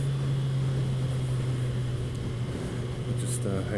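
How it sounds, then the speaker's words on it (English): A Kawasaki motorcycle engine drones steadily with induction noise while riding, a constant low hum mixed with wind rush that stays close and loud throughout. "It's just got a lovely induction noise too."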